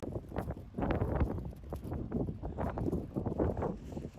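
Gusty wind buffets the microphone in rough, broadband bursts, loud and close, with no clear voices over it.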